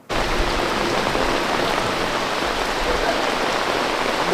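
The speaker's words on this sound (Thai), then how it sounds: "ซีนนี้มันยากตรงที่แบบว่าวันนั้นมันเป็นวันที่ฝนตก" Heavy rain pours down steadily by a waterside pier, a dense, even hiss of drops that begins abruptly and continues unbroken at close range with no voices.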